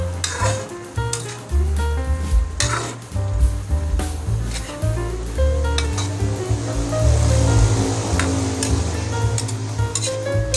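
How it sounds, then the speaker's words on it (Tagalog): Boiling pinakbet, an Ilocano vegetable stew, stirred in a cooking pot with steady bubbling and sizzling, plus repeated scraping and clinking of the utensil against the pot, continuous and fairly loud with no talking. "kumulo na. Paluin natin. Halo-halo para maging pantay yung luto."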